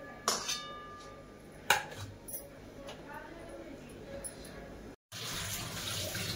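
A kitchen tap runs softly while vegetables for veg dum biryani are rinsed, with a few clinks of utensils, a short pause, and a voice talking over the quiet water.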